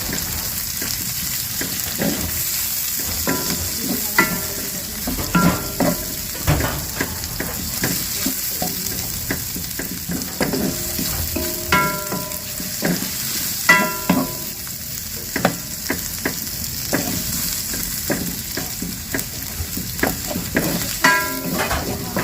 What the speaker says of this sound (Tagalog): Yan, gisa-gisa lang tayo.